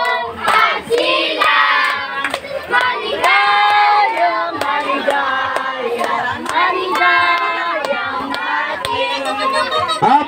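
Party guests at a family birthday celebration clapping along while children and adults shout and sing, a dense, loud mix of rhythmic hand claps under excited voices throughout.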